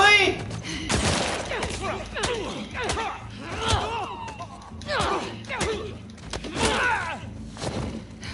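Gunfire and combat impacts in The Last of Us Part II, a burst of sharp shots and thuds recurring through the fight, with a voice speaking over the action.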